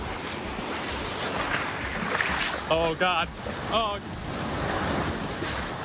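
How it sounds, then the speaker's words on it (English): Ocean surf churns at a beach in Quepos, Costa Rica, a dense, continuous roar of breaking waves and wind buffeting the phone held in the water, with a woman's brief exclamations over it. "I promise these waves were much bigger in person and could easily knock you over if you weren't paying attention."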